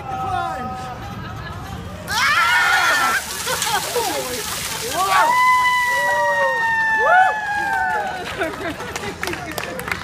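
Ice water from a bucket splashes down over men in suits, sloshing hard outdoors while voices whoop and chatter around it.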